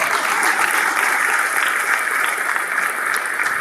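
Dense, continuous applause from a crowd, steady clapping that fills the whole stretch without pause.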